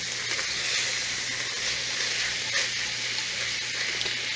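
Steady frying sizzle from a gluten-free flour roux being stirred in a hot pan, a continuous bright hiss with faint scraping, no talking.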